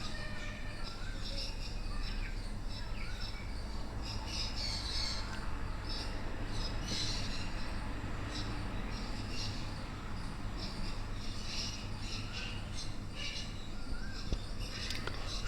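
Caged Bengali finches and Java sparrows at a bird market keep up a busy chorus of thin chirps and squawks over a constant low hum of crowd and market noise.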